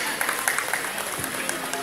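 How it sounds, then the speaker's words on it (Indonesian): An audience at a vocational school graduation ceremony gives dense, steady applause in a reverberant hall, with a voice speaking over the clapping. "Beri tepuk tangan yang meriah sekali lagi."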